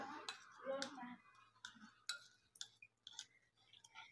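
A spoon stirs and presses butter in a bowl to soften it for walnut cookie dough, giving faint, irregular scrapes and light clinks close by, with a quiet voice talking over parts of it.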